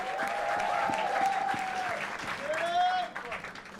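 Loud applause from a talent show studio audience for contestant Bhavya Shah, a thick continuous clapping wash with cheering whistles and whoops rising over it, tapering slightly near the end.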